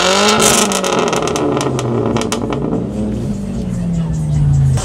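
A Subaru car engine revs hard and climbs in pitch, loud and close, with rising and falling throttle over a few seconds.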